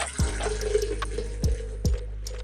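Barley wine beer is poured hard into a glass, a steady splashing liquid rush with a few sharper glugs, close and alone without speech.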